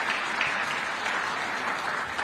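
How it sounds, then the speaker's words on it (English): Audience at an ICT association event in Zambia clapping steadily, a brief dense burst of applause with no talking. "Can we clap for ICT?"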